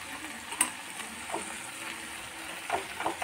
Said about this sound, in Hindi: मेथी को भी आलू में अच्छे से मिक्स कर दिया है